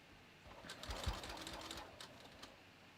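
A sewing machine stitches a bathrobe seam in short runs of a couple of stitches with brief pauses between them, a quiet, close mechanical whirr and tapping.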